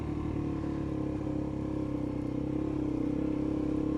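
Suzuki DRZ 400 off-road motorcycle with an aftermarket exhaust and carburettor, its single-cylinder engine running close by at a steady, throbbing idle, loud and continuous throughout.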